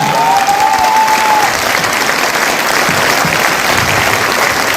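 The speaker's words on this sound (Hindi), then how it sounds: "अभी तक की सबसे जोरदार ताली" A crowd at a business meeting breaks into loud, dense applause, a continuous roar of clapping throughout with a brief whistle near the start.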